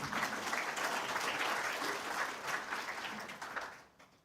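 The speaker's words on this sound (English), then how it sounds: "Another clap." Audience applause fills the room at an event, a steady wash of many hands clapping together, loud and sustained before tapering off near the end.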